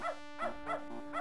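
A cartoon dog in the adventure game Beneath a Steel Sky gives four rapid, evenly spaced, bright woofs in quick succession, clear and close over a faint background hum.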